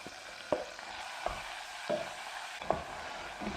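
Onions and garlic frying in a pan for a chickpea and potato curry paste, a soft steady sizzle broken by several sharp stirring clacks of a utensil against the pan.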